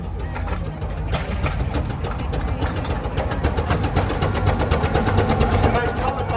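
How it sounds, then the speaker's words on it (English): Steam engine Polly, a privately owned road-going traction engine, runs in a show arena at the Broyle country show near Ringmer, East Sussex, with a steady rhythmic chuffing beat that gradually grows louder. "This engine also travels many miles on the road."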